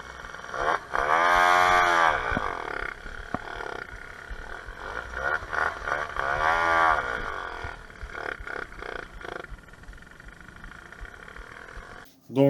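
Two-stroke moped engine running on 100% ethanol, revving in two loud buzzing bursts that rise and fall, then idling unevenly and sputtering.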